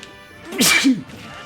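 A single sharp sneeze bursts out close by, a quick inhale followed by a loud, breathy burst, with quiet room noise around it.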